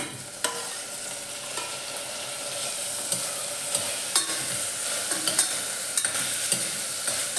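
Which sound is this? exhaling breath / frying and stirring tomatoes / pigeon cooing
frying and stirring tomatoes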